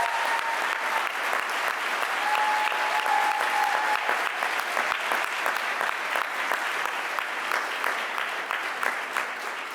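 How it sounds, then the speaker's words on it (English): Sustained, loud applause from a large audience at an award ceremony honoring Angela Y. Davis, dense, even clapping filling the room for nearly ten seconds, with a brief whistle or cheer near the start. "let's clap it up"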